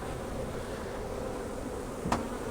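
A continuous, close hum of many honey bees around their hive, with a sharp little click near the end.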